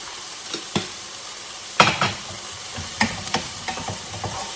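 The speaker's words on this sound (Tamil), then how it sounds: "இப்பொழுது இது வெங்காயம் வதங்குற நேரம்" Onions sautéing in a pan as filling for rolls, with a steady soft sizzle broken by several sharp spoon scrapes and knocks as they are stirred, close up and with no talking.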